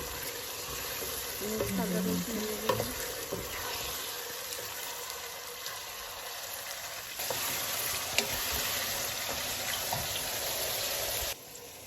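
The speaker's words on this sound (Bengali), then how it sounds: "এখন আমি চিকেনের মধ্যে আদা রসুনের পেস্ট দিয়ে দিচ্ছি এটা ফ্রোজেন আদা রসুন মিক্স করা" Chicken frying in a pan as frozen ginger-garlic paste is stirred in for a chicken curry: a continuous close sizzle with a few scrapes and clinks of the spoon early on, with no speech over it.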